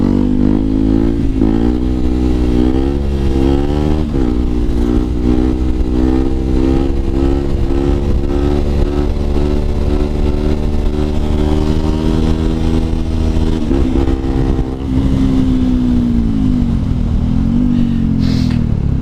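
A 125cc four-stroke motorcycle revs hard through a wheelie, engine held loud and close with rising and wavering pitch as it pulls, a steady drone throughout with a slight dip near the end.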